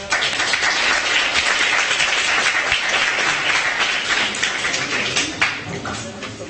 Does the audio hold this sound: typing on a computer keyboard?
no